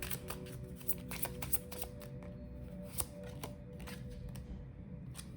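Tarot cards shuffled by hand, soft and quiet, a steady riffling patter with a few sharper snaps, heard close with no talking.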